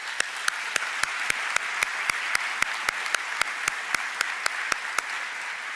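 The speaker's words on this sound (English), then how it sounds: "Please give them a round of applause." A high school graduation audience applauding, with a soft steady crowd clapping beneath one nearby pair of hands striking sharp, evenly spaced claps at a brisk, regular beat.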